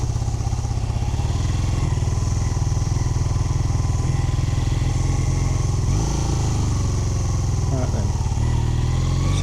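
A motorcycle with a freshly rebuilt top end runs on a test ride, its engine thrumming loud and steady with a rapid low pulse and mild revving throughout, plus faint clatter and wind noise.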